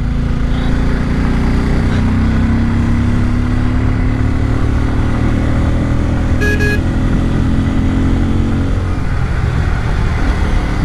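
A Bajaj Pulsar N250 motorcycle runs steadily on a rough road, its engine a continuous close drone with slowly shifting pitch and a brief high chirp midway, no talking.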